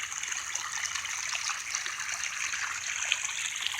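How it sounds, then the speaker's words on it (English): A small waterfall pours through flood waters, producing a steady, close rushing and trickling wash that stays even and unbroken, with no voices over it. "You got this little stir up here, a little waterfall right there."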